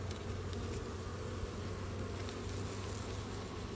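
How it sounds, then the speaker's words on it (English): Honeybees at an open beehive make a constant, dense buzzing drone that stays even and unbroken throughout, with no talk. "They're good bees, very good bees."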